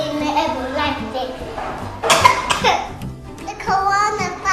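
A cough within a busy news segment, sounding once or twice midway amid children's voices and chatter, close and fairly loud against background talk.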